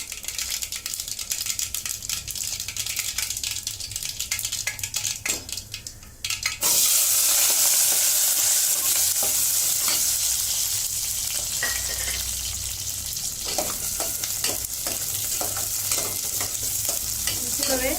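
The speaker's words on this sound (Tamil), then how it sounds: "கடுகு பொரிஞ்சதும் சின்ன வெங்காயத்தை இதில் போடலாம்." Mustard seeds and small onions fry in hot oil for prawn white kurma, first with soft rattling and stirring, then a sudden loud, steady sizzle with occasional clinks of a utensil against the pan.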